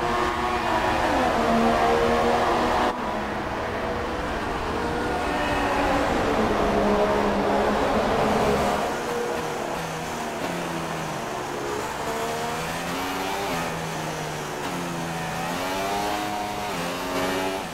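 Formula 1 race cars in the video game F1 2016 at the Brazilian Grand Prix, high engine whines rising and falling as cars overtake, loud and continuous with shifting pitch sweeps.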